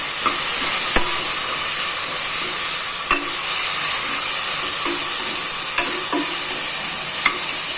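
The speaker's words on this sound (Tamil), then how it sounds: "நல்லா வதக்கலாம்." Ginger garlic paste sautés in a pot for a one-pot non-veg gravy, a loud continuous sizzle and hiss with occasional soft scrapes of a ladle stirring, and no talk.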